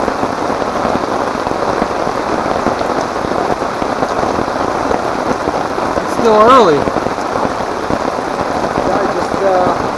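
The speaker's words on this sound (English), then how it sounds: "I just sit here and enjoy the rain" Rain pours steadily onto a wild campsite during a thunderstorm, a close, dense patter drumming on nearby surfaces throughout, with a brief spoken remark partway through.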